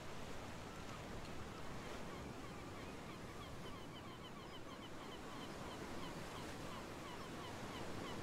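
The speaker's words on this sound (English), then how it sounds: "the waves crashing on us." Ocean surf in a multiplayer video game world near a lighthouse and greenhouse, a steady, faint, unbroken wash of crashing waves and wind, with faint high calls that could be seagulls.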